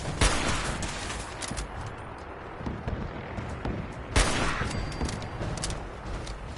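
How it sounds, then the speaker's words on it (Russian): Gunfire in the video game Fallout 4, bursts of rapid shots and sharp cracks with two louder blasts, moderately loud against a noisy battle background, no speech. "Интересно, он в меня не стреляет."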